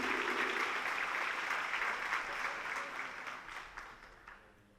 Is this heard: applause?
yes